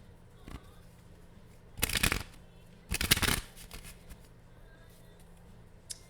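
Playing cards are shuffled and drawn in two distinct riffling bursts a second apart, with a faint flick before them and quiet room tone between.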